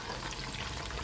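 Soy sauce pours steadily for a moment in a kitchen while chicken chilli gravy sauce is being mixed, a close, continuous liquid stream with no one talking.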